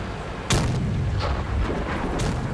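Tank cannon fire in a tank battle video game sounds as a sharp, loud boom followed by a fainter second shot and distant reports over a steady low rumble of engine and ambience.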